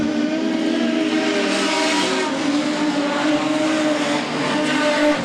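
Production sedan race cars roar around a track, one engine damaged and smoking, in a dense, loud, continuous blend of engine noise and hiss with no clear breaks and no talking.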